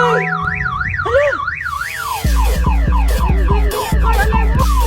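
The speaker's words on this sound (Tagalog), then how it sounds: "Car alarm mo." A loud car alarm blares nearby, first with a rising-and-falling warble and then switching to a rapid repeating whoop pattern with heavy low pulses, with no talking over it.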